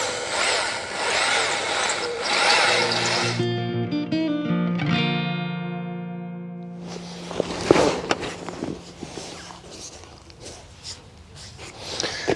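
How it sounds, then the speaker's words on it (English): A power drill with a multi-purpose bit, hammer action off, whirs loudly boring a hole, then pauses as tones ring out, before the drill resumes with rattling and clattering. "multi-purpose drill bit, and that's going through nice and easily without hammer action"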